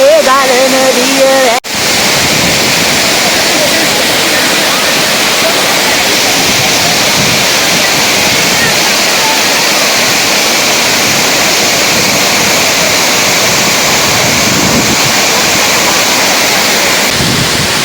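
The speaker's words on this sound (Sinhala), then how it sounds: "කොළපතන ඇල්ලේ ගලන දිය" Water flowing over Kolapathana waterfall near Mandaramnuwara, a loud continuous rushing roar that fills the whole clip, preceded by a short burst of other sound at the very start.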